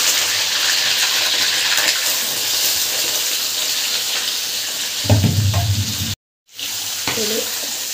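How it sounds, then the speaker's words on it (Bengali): Goat gizzard and liver frying in hot oil, a loud dense sizzle that runs steadily, then a brief stir and a short break in sound before it resumes, with no talking. "তেলে দিয়ে দিয়েছি, আমি এভাবে ভেজে নেবো।"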